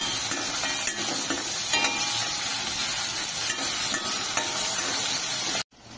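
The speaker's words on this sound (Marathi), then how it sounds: "आता बटाटा फ्राय होतोय" Cubed potatoes fry over a high flame with a little salt for a dhaba-style cauliflower bhaji, giving a loud, steady sizzle with brief stirring scrapes. It cuts off abruptly just before the end.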